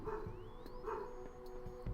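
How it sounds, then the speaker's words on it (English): Dogs bark and yip in quick repeated bursts, fairly close, over a low electronic hum with a rising whistling tone, in the game Star Control II: The Ur-Quan Masters. "Wow, those dogs."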